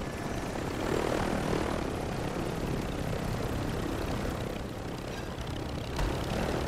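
Helicopter in the video game Call of Duty, a steady loud rotor and engine drone filling the whole stretch with no talk over it.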